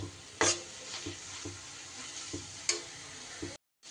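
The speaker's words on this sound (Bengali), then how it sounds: "আমি এই মশলার সাথে সয়াবিনটা দিয়ে খুব ভালো করে কষিয়ে নেব" Soybean mince stir-fried with masala in a pan, with a continuous soft sizzle broken by repeated spatula scrapes and stirring strokes at irregular intervals; near the end the sound cuts out briefly, and no one speaks.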